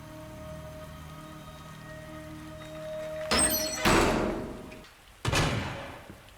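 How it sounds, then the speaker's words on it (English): Door slamming shut in Resident Evil 2, a sharp heavy impact with a rattling tail, followed a moment later by a second hard bang, both loud and close over a steady low ambient hum and rain-like hiss. "He shut the door on us"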